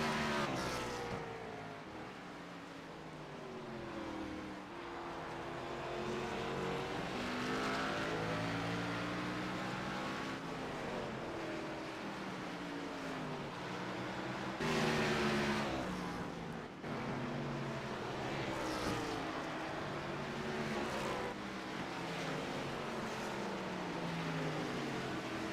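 Race cars roar around Martinsville in a sim racing video game, with engines droning and rising and falling in pitch throughout as the cars lap the short track at close range, loud and continuous.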